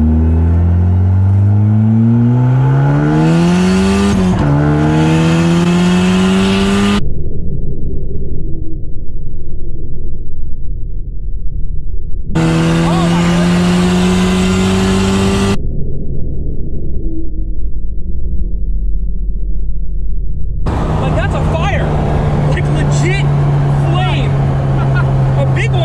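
A loud turbocharged Mazda Miata engine revs and accelerates repeatedly, pitch sweeping up through gears, with roaring bursts and brief drops between pulls; no talking.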